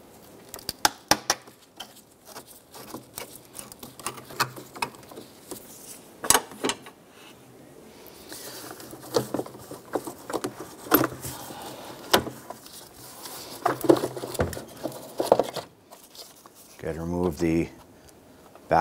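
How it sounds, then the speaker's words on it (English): A flathead screwdriver loosens the air intake tube clamp on a 2005–2009 Subaru Outback, giving close, irregular metallic clicks, scrapes and taps in quick bursts, with a brief rattle near the end. "use a flathead screwdriver and remove or loosen the clamp for the air intake tube"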